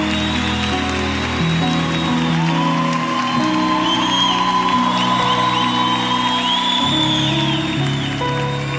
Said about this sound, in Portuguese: pode aplaudir, fica feliz, bora!